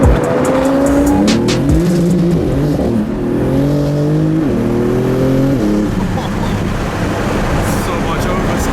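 Porsche GT2 RS supercar on a Spanish mountain road roars loud and close, its engine note climbing and dropping through gear changes as it oversteers, with voices talking over the sustained engine drone.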